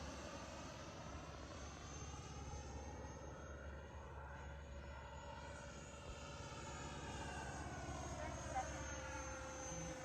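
A Fly Fans 64mm L-39 RC electric ducted-fan jet on a speed run, a steady whining roar that swells slightly as it passes, heard faintly from a distance with people talking.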